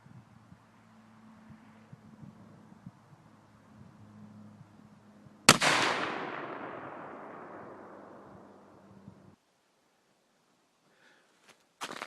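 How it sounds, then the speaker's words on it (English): A single rifle gunshot at an outdoor shooting range, a sharp loud crack followed by a long rolling echo that decays over several seconds, over a low background hum and light wind. "I'm going to shoot one more round after making some windage adjustments again"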